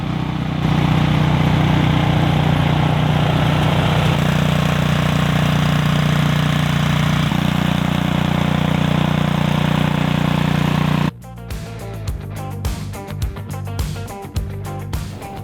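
A Cub Cadet 2X 30-inch EFI snow blower engine runs close by with a steady droning hum, then its tone shifts to a rougher, uneven clatter with rhythmic pulses near the end.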